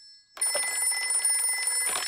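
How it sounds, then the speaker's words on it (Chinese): Cartoon office telephone ringing, a bright continuous electronic trill that starts abruptly after a brief quiet moment and carries on loud and close, alone without talk. "也许我应该给办公室打个电话"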